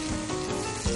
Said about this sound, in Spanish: estoy empezando a freír cebolla con ajo